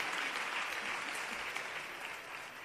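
Audience at a Christmas choir and carol contest award ceremony applauds in a sustained, even wash of clapping that eases slightly toward the end.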